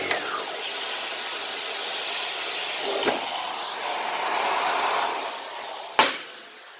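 A cordless rechargeable power head on a retractable-hose central vacuum runs over a fine rug with the suction control open, giving a steady airy whir with shifting pitch, ending in a sharp clatter as the hose handle drops.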